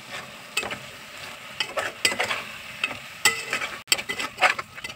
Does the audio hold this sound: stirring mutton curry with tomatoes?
yes